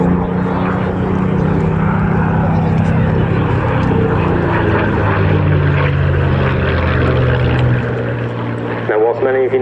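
An RAF Spitfire flies an airshow display at RAF Cosford, its propeller engine droning loud and steady throughout with a shifting pitch as it passes, and a voice speaks over it.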